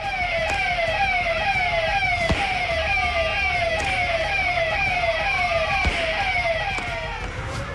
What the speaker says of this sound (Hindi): गाड़ियों पर तेज आवाज में सायरन और हूटर बज रहे हैं